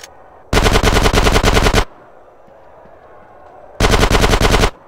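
Gunfire in the video game GTA San Andreas, two loud sustained bursts of rapid automatic fire, close and dense, separated by a quieter gap of low ambient game noise.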